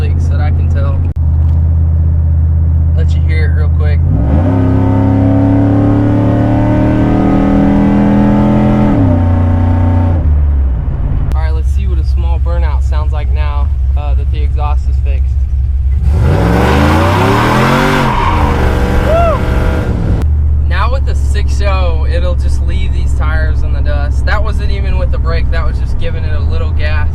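A Chevrolet Silverado 6.0 V8 with an aftermarket cam and new exhaust, revving loudly up and down with a lumpy idle rumble between sustained high-rpm pulls, close to the microphone.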